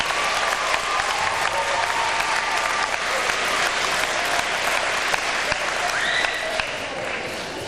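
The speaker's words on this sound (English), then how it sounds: "Could we have a round of applause for the school board members?" An audience at a school rally breaks into sustained, dense applause for the school board members, filling the room evenly before tapering slightly at the end.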